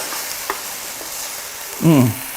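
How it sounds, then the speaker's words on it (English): Yellow onions and garlic sauté in a pan with a steady close sizzle, a couple of small clicks from stirring, and a brief louder burst of hissing near the end. "I'm gonna do a saute of yellow onions with, of course, some garlic."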